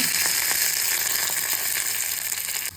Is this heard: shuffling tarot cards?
no